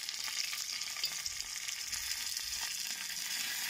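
Curry leaves and finely slit chillies sizzle in hot tempering oil for Gujarati khandvi, a steady, close, hissing crackle that stays even throughout with no voices.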